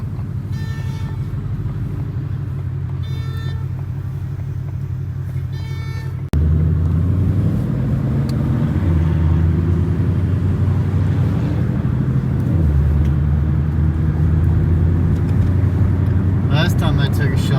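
A 2021 Ford Shelby GT500 drones loudly from inside the cabin while driving, a steady low engine and exhaust rumble that jumps louder midway as the car accelerates, with the pitch shifting through gear changes.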